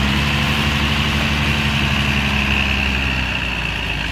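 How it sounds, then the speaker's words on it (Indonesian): A Po Santoso bus's diesel engine idles at a terminal in the morning, a steady, loud, low throbbing rumble that continues evenly throughout with no speech. "Suara mesinnya."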